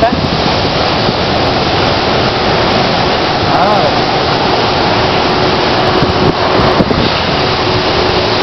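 Sea waves roll in a loud, continuous wash near the shore, mixed with wind buffeting the microphone and faint voices in the background.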